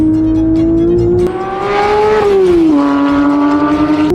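A rebuilt, previously crash-damaged Porsche 911 GT3 revs hard on a shakedown drive, its engine note climbing steadily, peaking, then dropping sharply before holding a strong, close, loud howl throughout with no talk.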